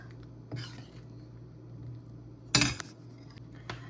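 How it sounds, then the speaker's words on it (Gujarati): A spoon stirs lemon juice into garlic potato curry in a pot, giving a few soft clinks and one sharper metallic scrape against the pan amid quiet kitchen background. "લીંબુનો રસ ને કરી દઈએ મિક્સ"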